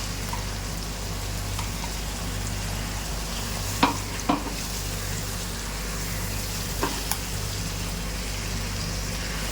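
Puréed tomatoes with a Maggi stock cube fry in a pan: a steady, soft sizzle runs throughout, with a few faint clinks of stirring and a low hum beneath.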